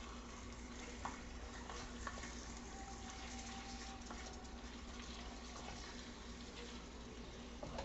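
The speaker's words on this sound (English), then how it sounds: "we're just going to give that a good stir here" Meat seasoned with Greek all-purpose seasoning being stirred in a pan, a steady soft scraping and sizzling texture with a faint tonal hum underneath, no talking.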